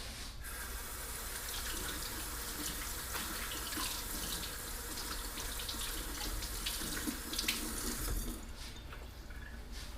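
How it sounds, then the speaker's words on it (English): Tap water runs steadily into a kitchen sink while celery is washed, a constant soft splashing stream with faint handling noises, stopping briefly near the end. "So please make sure that you wash your celery."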